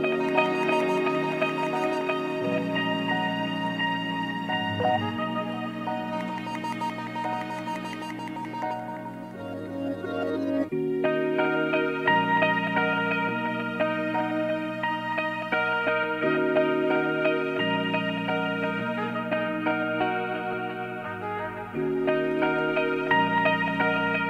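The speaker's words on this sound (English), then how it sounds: "So altogether, the instruments, sampled ones, and the played in ones sound like this." A full song mix blends sampled instruments with played-in parts. It sounds dense and layered, with a low line that shifts in steps under bright upper parts, continuous and loud with no talking.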